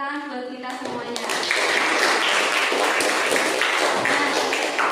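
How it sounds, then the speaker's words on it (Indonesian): A sixth-grade class applauds together, a dense, loud burst of clapping that starts after a brief tonal sound and carries steadily to the end, close and full. "Beri tepuk tangan buat kita semuanya."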